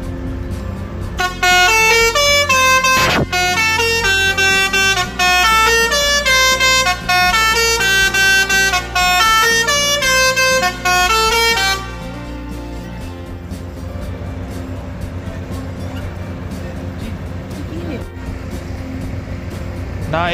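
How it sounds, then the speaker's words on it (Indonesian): A loud musical telolet horn on a tour bus plays a rapid, bright melody of varied tones for about ten seconds, then stops, leaving a low engine rumble. "itu tadi suara telolet basurinya sangat seru sekali ya"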